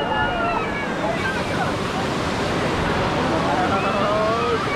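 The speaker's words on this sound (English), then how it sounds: "We are in a waterfall." Kuntala waterfall's rushing water makes a steady, loud broadband roar that fills the whole stretch without a break, with faint voices and wind buffeting on the microphone mixed in.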